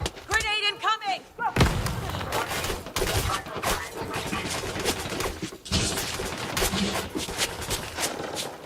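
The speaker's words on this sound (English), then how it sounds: "Grenade incoming!" Gunfire and grenade blasts from a firefight in the space game Elite Dangerous, a dense run of heavy thumps, bursts and rattling shots that keeps up the whole time, with a shouting voice cutting in near the start.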